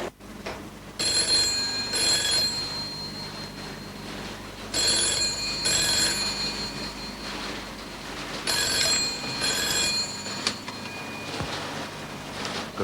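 A telephone rings in repeated pairs of bright electronic bursts, loud and close, about three double rings in all, alone with no talk.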